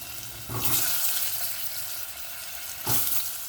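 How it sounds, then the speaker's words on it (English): Potatoes go into a pot of chicken stew spiced with cardamom and cinnamon, bringing two short splashing, sizzling bursts over a constant low simmering hiss, with no talking. "after that I am giving all the potatoes"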